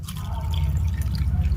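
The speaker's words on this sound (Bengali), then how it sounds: "এবার এর মধ্যে আমি অল্প অল্প করে কুসুম গরম জল দিয়ে দিচ্ছি।" Lukewarm water is poured a little at a time into rice flour for pitha, giving a steady close trickle and splash that runs for the whole short moment.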